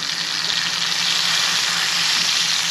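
A panini gives off a loud, steady, hissing sizzle as it presses on a hot grill, continuous and close with no talking.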